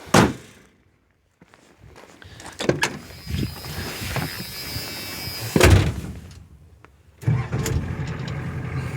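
A 1984 Ford F250 engine cranks briefly and fires up, then settles into a loud, steady idle close by, with a few clunks and thumps from the cab before and during the start.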